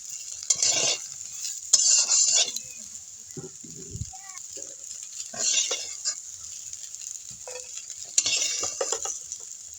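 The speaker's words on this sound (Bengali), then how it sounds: "সয়াবিনটা প্রায় ভাজা হয়ে গেছে, এখন আমি তুলে নিব।" Soybean chunks fry in a pan of oil and are stirred, with a steady sizzle broken by repeated scraping and clattering strokes of a utensil against the pan, close and clear.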